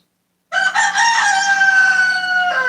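After a brief hush, a rooster gives one loud, nearby crow that rings out steadily to the end.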